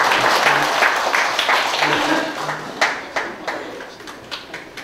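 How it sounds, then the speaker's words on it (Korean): Audience applause at a Korean clan association gathering, a dense burst of clapping from a crowd that thins into scattered individual claps, with a voice briefly audible underneath. "한번 나오시면 큰 박수 부탁드리겠습니다"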